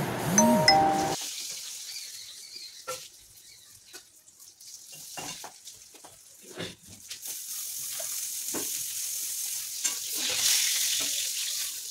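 Food cooking in two karahi woks at home, with faint sizzling, stirring scrapes and a brief bright chime at the start, quiet and intermittent with no talk.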